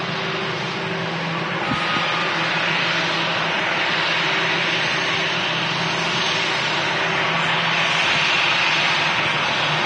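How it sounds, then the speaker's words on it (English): An Austrian Airlines Embraer airliner taxis at Manchester Airport, its engines giving a steady, fairly loud broadband whine and rumble that holds throughout without pause. "Austrian Embraers on the taxi as well, as we speak"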